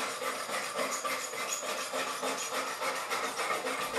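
Belt grinder sanding scale off forged knife steel, a steady abrasive hiss and rasp with a faint rhythmic pulsing as the belt runs, close and continuous.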